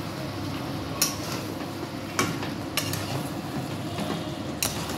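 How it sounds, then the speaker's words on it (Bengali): Mutton is stirred and fried with roasted ground spices in a pan. A soft, steady sizzle runs underneath, and a spatula clinks against the metal four times at uneven intervals. "মাংসটা অর্ধেক কষে গেল, তারপরে এবার ভাজা মশলাটা দিয়ে আরও কিছুক্ষণ ভালো করে কষে নেব।"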